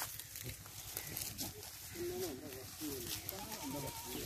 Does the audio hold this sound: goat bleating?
yes